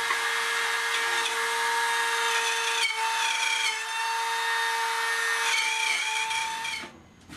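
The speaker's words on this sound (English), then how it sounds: "how I'm going to do that is with a palm router, and I'm just going to cut out that mortise" A palm router cuts a stop mortise in wood for a shelf, giving a loud, steady high-pitched whine with small changes in load for several seconds before it spins down at the end.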